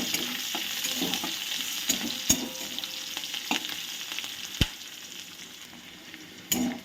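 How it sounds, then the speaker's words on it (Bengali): Onions and green chillies sizzle steadily in hot oil, punctuated by a few sharp clicks and taps of a spoon stirring the pan. "পেঁয়াজটা একটু ভাজা ভাজা হোক"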